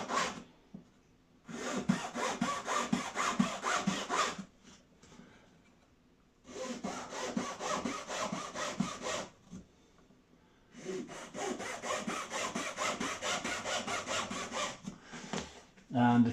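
Hand saw cutting through plywood while building a Fokker DR1 model aircraft undercarriage and axle wing, three long bursts of steady rasping strokes separated by short quiet pauses, close and fairly soft.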